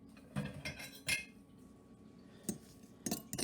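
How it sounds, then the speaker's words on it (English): Stirring barbecue sauce and ketchup in a cup: a few scattered metallic clinks and scrapes of a utensil against the cup, short and close, with quiet gaps in between. "And I might just give that a little bit of a stir as well."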